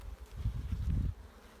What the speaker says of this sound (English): That is not a worker bee, that's a drone. That's a male bee.